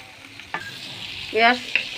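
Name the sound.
stirring fried chicken with boiled chickpea lentils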